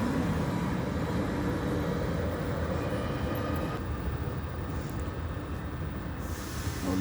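A double-length train moves through a city station, a steady rumbling roar with hissing that fades a little partway through, heard from nearby on the platform.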